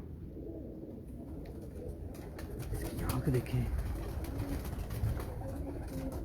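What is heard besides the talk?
breeder Teddy pigeons cooing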